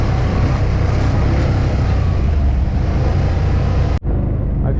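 A Can-Am Outlander Generation 3 quad, 850 or 1000cc, crawling over rough, rocky terrain in 4x4: a close, steady low engine rumble that cuts out abruptly for a moment near the end.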